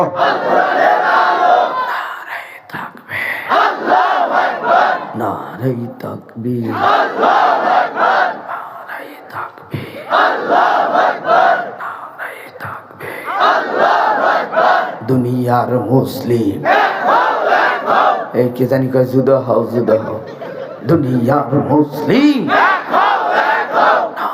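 A large rally crowd loudly chanting takbir in repeated bursts, answering a leader's shouted calls in a call-and-response rhythm, the roar of many voices filling each phrase with brief pauses between.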